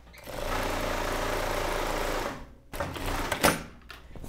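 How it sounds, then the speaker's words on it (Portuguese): A sewing machine topstitches the yoke seam of a women's shirt, running in one steady, close whirring burst for about two seconds before stopping, followed by brief handling noises of the fabric. "Eu vou costurar e pespontar."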